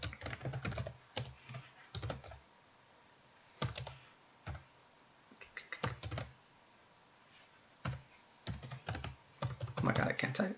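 Typing on a computer keyboard during a web development lesson: quiet bursts of rapid key clicks separated by short pauses, with a faster flurry of keystrokes at the end.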